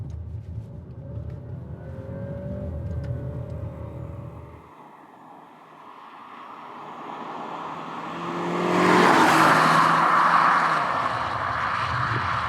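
An Alfa Romeo Stelvio Veloce SUV's engine idles low, drops away, then rises into a strong acceleration with a building roar that settles into a steady drone, heard from inside the car.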